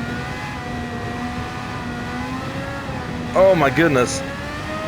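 In Gran Turismo 7, a car's engine drones at full throttle with steady rising harmonic tones. A voice briefly exclaims near the end.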